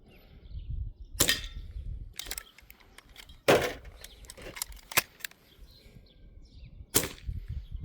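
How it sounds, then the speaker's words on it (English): Hwasan airsoft target pistol being reloaded and fired, with a handful of sharp, separate snaps and clicks spaced a second or more apart over quiet handling noise. "just for a fun thing, how fast I could reload with this gun"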